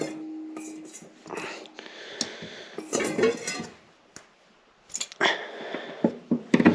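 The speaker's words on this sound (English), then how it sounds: "All I'm going to do is just pop this hose off right here" Pliers work a hose off a snowmobile carburetor, producing close metallic clicks, clanks and scraping rattles in uneven bursts, with louder tool clatter toward the end and no talking.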